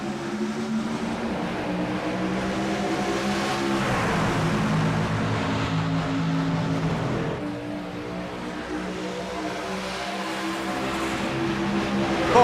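Race trucks roar back up to speed on a restart at Kansas in iRacing, a dense pack of engines droning loud and steady, with revs easing briefly midway before building again.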